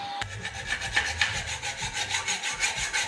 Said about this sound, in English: While I'm in the mood for sawing some holes